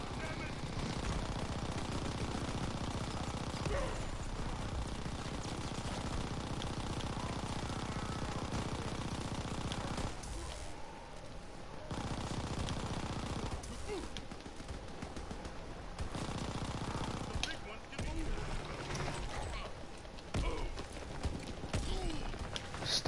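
Rapid bursts of video game gunfire rattle through a busy in-game soundscape, with dense firing stretches broken by brief lulls and players talking over the action.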